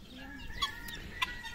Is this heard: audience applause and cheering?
no